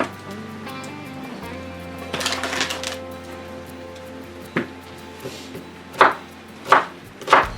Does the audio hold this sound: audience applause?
no